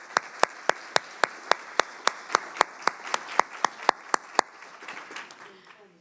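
Slow, evenly spaced sharp claps ring out at a summit keynote session when speakers are applauded, a single loud rhythmic clapping leading over a softer background of scattered audience clapping that trails off after the beats stop.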